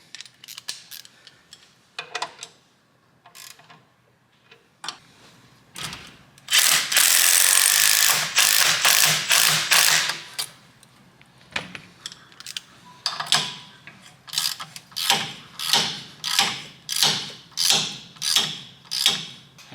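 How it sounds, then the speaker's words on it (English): A ratchet cranks bolts tight on a Cummins compound turbo install on a 3rd gen Dodge Ram, its loud close clicking coming in scattered strokes, then a dense run, then steady rhythmic back-and-forth pulls. "make sure you go over it with a ratchet."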